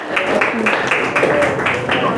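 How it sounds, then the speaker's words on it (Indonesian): Students in a classroom clap for group 3 after its presentation, a rhythmic, evenly spaced burst of clapping with voices mixed in underneath. "tepuk tangan dulu dong untuk kelompok 3"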